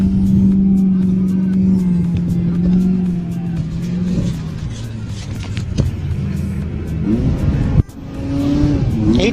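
An off-road race truck in the 2022 NORRA Mexican 1000 roars past on a road. Its loud engine drones, then fades and revs up again, with a sharp burst near the end and faint voices underneath.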